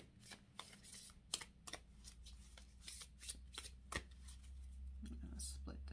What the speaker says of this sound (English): let's get a card from the Starseed Oracle by Rebecca Campbell